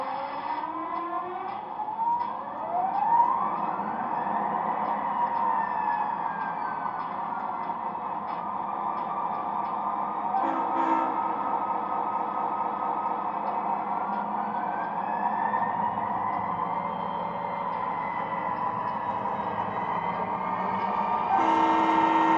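An MTH Premier Chessie System SD40-2 model diesel locomotive's sound system starts up, rising in whining sweeps before settling into a loud, steady engine drone that swells again near the end.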